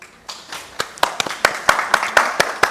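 Hands clap in a steady run of sharp, separate claps, a small group rather than a full crowd, gathering pace over a few seconds at an indoor fireside chat on mobility in Nigeria.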